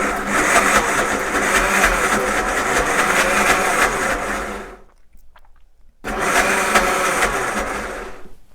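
A blender whirring loudly as it purees peas, mint and blanching water, running about five seconds, stopping briefly, then starting again in a second pulse, close and harsh.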